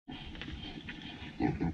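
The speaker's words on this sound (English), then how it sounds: "we got the pig sounds playing" Recorded pig grunts and squeals play through a pickup truck's sound system, a short, somewhat distant burst of grunting that gets louder near the end.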